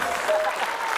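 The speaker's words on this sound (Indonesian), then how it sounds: "Ya kita beri tepuk tangan." A studio audience at a TV quiz show claps in a dense, steady burst of applause, loud and close, with voices mixed faintly underneath.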